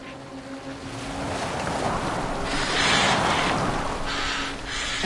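Boat moving over open water in Assassin's Creed Valhalla, with a broad wash of waves and wind swelling and easing, and faint bird calls in the background.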